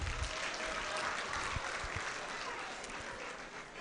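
At a university freshers orientation, an audience gives faint, distant applause, a soft continuous patter of many hands with a few thumps and a murmur of voices underneath.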